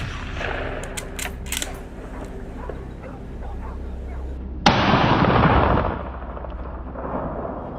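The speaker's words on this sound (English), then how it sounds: "I raise my rifle without hesitation, steady and focused, and take down the lead hog with a clean, precise shot." A single loud rifle shot at a feral hog, fired from a high blind over California farm fields, cracks out midway and fades in a short rolling echo above steady outdoor background noise.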